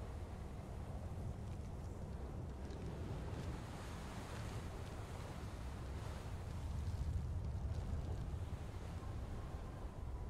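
Steady, low rushing wind blows without a break inside a barn in the video game Beyond: Two Souls, a broad hollow roar that swells slightly toward the end.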